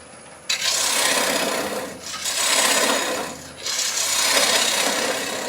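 Gouge cutting wood on a lathe with a 3/8 gouge removing waste, a close, loud, steady rasping scrape in three long passes with brief dips between them.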